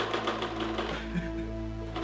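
A sewing machine runs steadily, stitching braided strips of old workwear fabric for a purse, a close, continuous mechanical hum with rapid needle chatter throughout.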